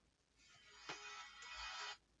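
A cell phone rings during a live question-and-answer session, a single sustained electronic tone burst lasting over a second, fairly faint and alone with no talk.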